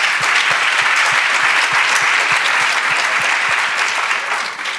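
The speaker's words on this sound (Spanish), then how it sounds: "un aplauso." Audience applause at a family values event, a dense steady wash of clapping from a large crowd that carries loudly throughout and eases slightly at the very end, with no talk over it.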